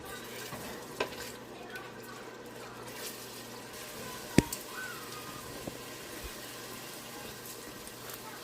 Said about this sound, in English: So I kept on stirring to avoid burning.